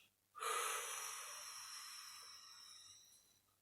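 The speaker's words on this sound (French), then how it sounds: "Puis expire profondément par la bouche." One long, deep exhale through the mouth during a relaxation breathing exercise, a breathy airy rush that starts suddenly, then slowly fades over about three seconds, close and alone in a quiet room.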